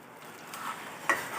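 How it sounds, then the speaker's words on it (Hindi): Sugar and water syrup stirred in a pan for a festival sweet, a soft steady scraping swirl with faint bubbling, quiet and close, with one brief louder clink near the end. "तो जब पानी ऐड हो जाएगा तो उसको हम चलाते रहेंगे,"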